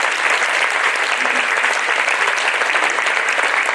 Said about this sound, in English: So let's clap very loudly for all of you here.